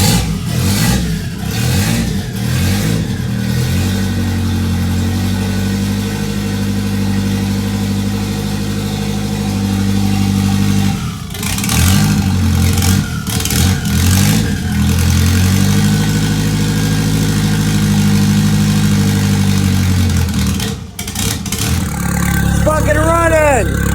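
A turbocharged Ford Ranger engine runs loud and close, holding a steady rumble with swells of revving through the stretch, while voices talk over it at times.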